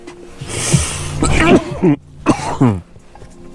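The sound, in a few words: cough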